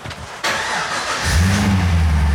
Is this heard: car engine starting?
yes